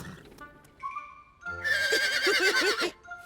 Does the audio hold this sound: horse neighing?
yes